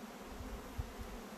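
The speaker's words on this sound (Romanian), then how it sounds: "Văd că albinele aduc" Bees buzz faintly at an apiary platform during the linden bloom, a soft continuous hum with a few brief nearer passes, quiet and distant, without any talk.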